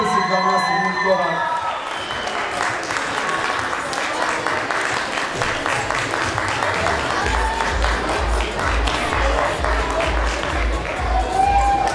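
Sustained audience applause fills a hall at a dance award ceremony, dense clapping with some cheering, loud and continuous for the whole stretch, as a low musical pulse enters beneath it partway through.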